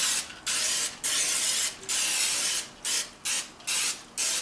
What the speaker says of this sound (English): So I'm just going to lightly spray it.